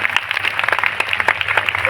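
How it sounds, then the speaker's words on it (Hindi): An audience in a religious discourse hall claps in a dense, steady burst of applause, many hands close together for a couple of seconds with no voices over it. "आपके लिए ताली बजाते हैं"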